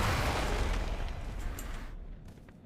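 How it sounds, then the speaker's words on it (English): A loud gunshot-like boom in World of Warcraft, with a sustained noisy blast that decays over about two seconds, set in a raid fight against whelps. "Gunshot."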